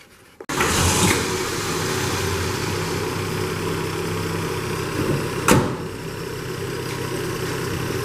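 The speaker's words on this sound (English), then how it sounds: "Sounds like the idle needs a little adjustment, but it's running pretty good." A 1966 Ford F100 truck engine starts and settles into a steady, slightly uneven idle needing adjustment, loud and close, with a brief knock partway through.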